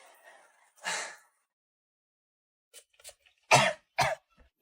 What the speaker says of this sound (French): Tu tousses, ma chérie?